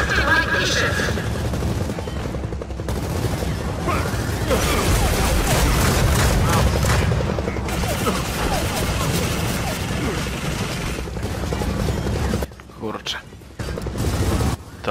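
Helicopter in the Gears of War 4 video game, a loud, steady rotor drone layered with bursts of gunfire and crashing combat effects, with occasional talk over it and a brief drop near the end.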